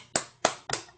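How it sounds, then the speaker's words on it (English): Three sharp hand claps in a slow, uneven rhythm, each with a short decay, close and clear in a quiet room with no talking. "Let's give her a round of clap."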